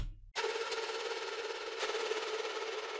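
Sustained bright synth lead drenched in reverb and swept across the stereo field by an LFO panner, a steady wash after a brief low note at the start, moderately quiet with no voices.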